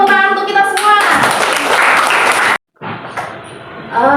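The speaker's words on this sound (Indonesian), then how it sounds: "Oke, berikan tepuk tangan untuk kita semua." Classroom applause after a lesson, with a burst of clapping from students rising over a voice at the start, running steadily, breaking off briefly, then resuming more loosely.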